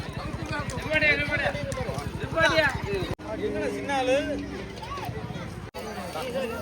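Quick, regular clip-clop of a horse arriving at a village Mattu Pongal festival in Tamil Nadu, strong for a few seconds then fading beneath a babble of crowd talk.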